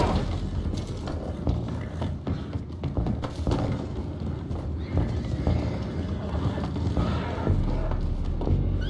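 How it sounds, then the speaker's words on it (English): Horses in Red Dead Redemption 2 whinny, and their hooves clop busily amid heavy thumps and booming, all loud and dense with no talk. "I have the horses under control."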